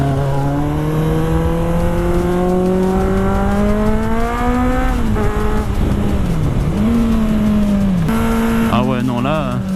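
A Kawasaki Z800 motorcycle revs hard on a winding road, its loud engine note climbing and dipping through gear changes, with a sharp throttle blip near the end, close and dominant throughout.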